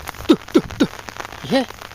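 Light drizzle falling around a rural field in the Diwali-season rains, a soft steady hiss in the background beneath a few short, rising-and-falling animal-like calls close by.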